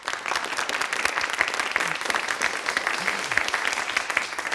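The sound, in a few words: audience applause welcoming a speaker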